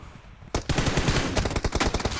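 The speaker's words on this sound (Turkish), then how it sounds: "Yani adama mermi atamıyorum ki" Gunfire in the mobile shooter PUBG Mobile: after a half-second lull, rapid automatic bursts ring out close and loud, a dense stuttering string of shots running to the end.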